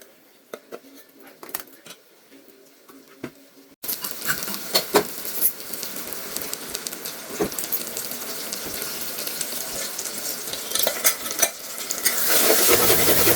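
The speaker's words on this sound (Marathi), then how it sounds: "चांगला परतून घ्यायचा आहे भाजून घ्यायचा आहे मसाला" Ground masala with mutton being stirred and roasted in a pan, with a steady sizzle and repeated scraping of the spoon. A quieter stretch comes first, then the frying grows louder and denser toward the end.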